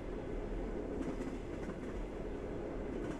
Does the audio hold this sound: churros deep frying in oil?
no